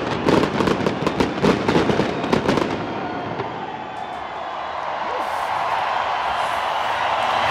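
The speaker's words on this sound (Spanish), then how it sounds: "¡Qué maravilla de fuegos artificiales!" New Year 2024 fireworks crackle and pop in a rapid, loud barrage of bursts, then settle into a continuous distant rumble mixed with crowd noise.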